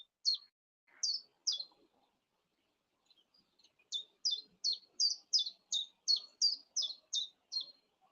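A bird sings repeated bright, high chirps, a few at first, then a quick steady run of similar notes, near and clear in a quiet setting.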